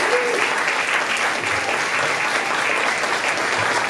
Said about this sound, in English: give a round of applause to our distinguished panel this evening